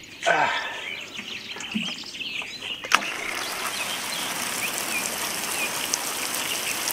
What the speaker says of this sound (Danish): Se, nu kommer regnen.